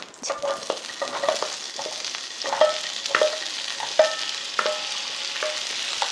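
Cucumber stir-fries in a spoonful of cooking oil in a preheated frying pan over high heat, a bright crackling sizzle broken by regular clacks and scrapes of a utensil tossing the slices, close and lively.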